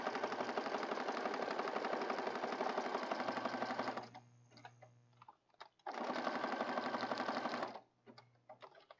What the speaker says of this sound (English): then we're going to stitch on this outside edge